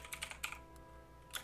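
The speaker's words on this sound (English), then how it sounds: "I hear typing" Soft, quick clicks of keys on a computer keyboard come in short bursts with pauses between them, faint and close against a low background hum, with no one speaking.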